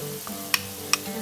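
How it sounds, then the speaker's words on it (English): Onions frying in a pan until golden brown, a low steady sizzle with two sharp clinks of a utensil against the pan. "we're going to nicely fry this until it becomes golden brown"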